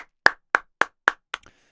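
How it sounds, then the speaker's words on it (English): Applause sample triggered from a Voice Live 3 Extreme vocal processor: five evenly spaced sharp hand claps, loud and close, followed by a brief trailing tail, with no voices. "So I was thinking if I had that sample of the applause saved"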